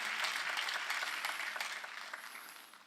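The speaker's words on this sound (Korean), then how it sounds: "박수로 하나님께 영광을 돌려야 된다는 거예요" Church congregation clapping during a sermon, a soft, diffuse patter of many hands that starts fuller and gradually thins and fades.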